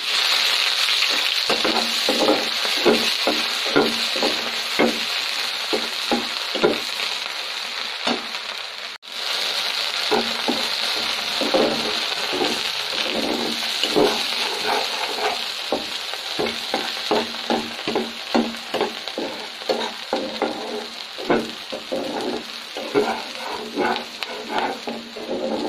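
Onion and eggs fry in a hot pan with a continuous hiss, broken by repeated sharp crackles and stirring scrapes in an irregular rhythm, close and fairly loud, without talk.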